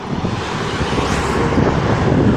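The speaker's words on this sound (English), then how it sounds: "Pretty good flow of traffic tonight." Steady freeway traffic streams past at night in a continuous loud roar with wind buffeting, no distinct individual vehicles or horns standing out.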